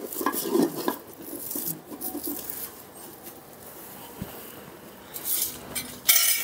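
Cooked puran being mashed and pressed through a sieve into a pot, giving soft irregular scraping and clinking of metal, moderately close, with a brief knock near the end and no talk.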